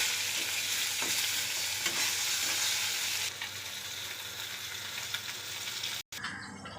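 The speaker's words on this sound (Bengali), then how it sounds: "মাছগুলো সুন্দর কড়া করে ভেজে নেব, যাতে মাছটা ভেঙে না যায়।" Steady, loud sizzling of fish frying crisp in hot oil, with occasional scraping of a utensil; the hiss briefly cuts out near the end.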